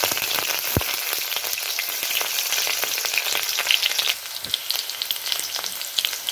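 Chopped onion frying in hot oil in a pan, a dense, loud crackling sizzle that runs steadily throughout, close up with no talking, easing slightly partway through.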